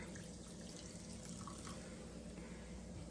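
Liquid pouring into a pot of goulash, 7Up lemon-lime soda from a small 8-ounce can, a steady close trickle and splash running unbroken throughout.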